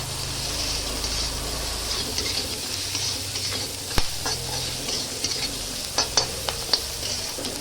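Poha with turmeric, chopped green chilli and pre-fried peanuts is stirred in a pan, with a constant soft sizzle and scraping under scattered spatula clacks that grow sharper near the end, with no talking.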